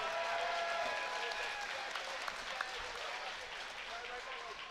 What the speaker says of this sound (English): How about a nice round of applause for our first fighters of the evening